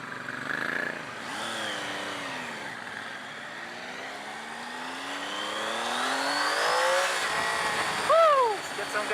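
A 2018 Triumph Tiger 800 XRt adventure motorcycle pulls away and accelerates over a bumpy road, its engine note rising in pitch steadily with a brief dip near the end, close and moderately loud against wind.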